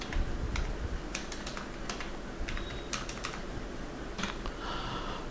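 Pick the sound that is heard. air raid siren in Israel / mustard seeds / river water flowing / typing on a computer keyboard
typing on a computer keyboard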